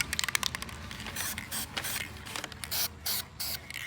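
Aerosol spray paint can, its nozzle turned to a horizontal fan pattern, spraying onto an aluminum alloy wheel in a series of short, close hissing bursts with brief gaps between them.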